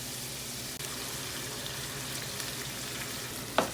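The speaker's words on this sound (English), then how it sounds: "I'll take some of that sauce and I just put it in there" Homemade sauce goes into a hot pan for stuffed shells with cheese and sausage, giving a steady soft sizzle and bubbling with faint stirring and a small clink near the end.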